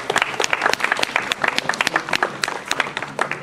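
Applause from an audience after a women's association dance performance at a Japanese festival, dense crowd clapping that stays strong for a few seconds.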